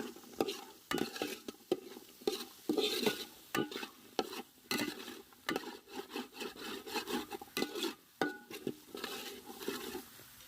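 Beans tossed into a frying pan for macaroni pasta, then stirred with a wooden spatula: a steady sizzle under repeated scraping and clattering strokes, close and fairly loud.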